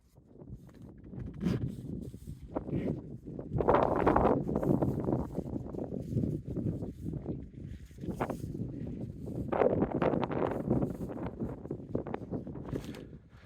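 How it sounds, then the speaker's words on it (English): Cold winter wind buffets a hilltop wild campsite in the Peaks, a rough, gusting rumble that rises and falls across the whole stretch and batters the microphone. "wind is absolutely biting this morning"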